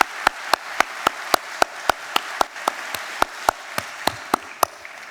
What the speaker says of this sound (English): Please join me for a round of applause for all of their service.